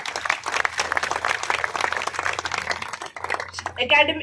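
Audience claps warmly to welcome a speaker at a gathering, a dense patter of hands that thins briefly before a voice speaks at the end.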